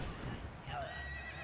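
A horse neighs in the Elden Ring video game, a loud whinny with a rising and falling pitch heard close up over rumbling game noise and hoofbeats.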